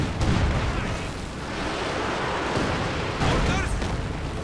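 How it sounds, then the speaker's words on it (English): A Katyusha rocket barrage lands in a Company of Heroes 2 match as a dense, continuous roar of overlapping explosions and rumbling impacts. The loud rumble fills the whole stretch, with a voice talking under the game sounds. "Another Katyusha barrage lands in."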